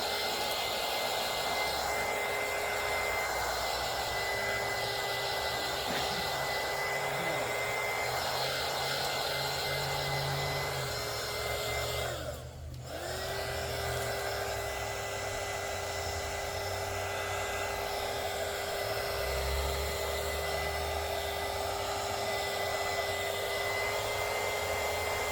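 A heat gun dries a craft project with a steady, loud whirring blower hum and a high whine. It cuts out briefly near the middle and then resumes at the same level, with no talk.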